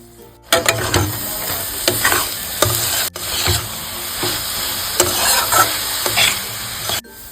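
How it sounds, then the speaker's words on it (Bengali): Grated coconut is stirred into melted jaggery in a pan for a sweet pithe filling, with continuous close sizzling and rhythmic scraping strokes of the spoon against the pan, no voices. "গুড় গলে গেছে, এবার এতে নারকেলটা মিশিয়ে দেব।"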